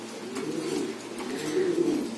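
A pigeon coos close by, a soft throaty rolling coo that swells and fades over about two seconds with nothing else around it.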